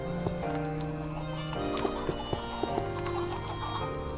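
Minecraft chickens cluck in quick, repeated, fairly close bursts inside a blocky automatic cooked-chicken farm, with a few sharp clicks and no talking.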